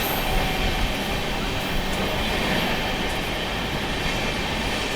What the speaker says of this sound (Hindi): लो भाई साहब ओवरटेक करके निकल गई यहाँ पर मुंबई लोकल